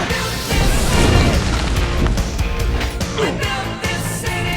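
Heavy booming blasts from bombs going off in the Guardians of the Galaxy video game, a dense continuous roar of crashes and rumbling debris that stays loud throughout.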